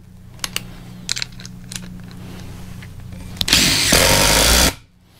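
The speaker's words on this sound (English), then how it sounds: "I don't have any big lag screws, but this thing will run them out." A Ryobi 18V one-quarter-inch impact driver runs out a screw in one loud burst of about a second, preceded by light clicks and handling taps and followed by a short quiet tail.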